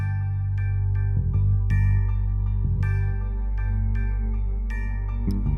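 A music sample from the Serato Essential East Coast kit, in a sustained harmonic loop with heavy low-end bass and recurring percussive hits, playing steadily and loud with no voices.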